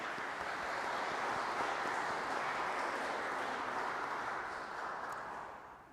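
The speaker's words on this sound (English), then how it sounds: "Let's give a round of applause to the River City Mindfulness Group and their Buddhist sound bath." Dense, steady applause from an audience at an interfaith iftar gathering in a cathedral, a continuous wash of many hands clapping that fades slightly toward the end, with no talk over it.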